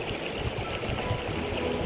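Steady flowing water at a natural hot spring in a cold, high place near Zadong, a continuous close rush and trickle with no voices.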